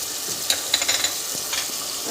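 Onions, tomato, curd, turmeric and spices fry in a pan for dhaba-style masala okra, a steady close sizzle broken by a few light metallic taps and scrapes of a spoon.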